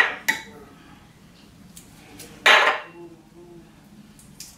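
Garlic being mixed into bagoong in a pan, with a few sharp utensil clinks and scrapes against the pan, close by and separated by quiet gaps.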